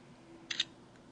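Camera shutter on a T-Mobile Sidekick LX phone from 2009 taking a photo: two quick, crisp clicks close together, standing out against a faint steady hum.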